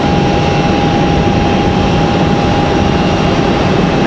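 An Aeromexico airliner flies near Raleigh-Durham International Airport, a steady, loud broadband engine roar with a constant whine holding throughout, with no voices heard.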